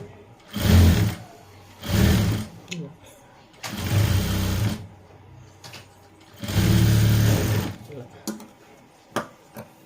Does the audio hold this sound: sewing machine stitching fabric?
yes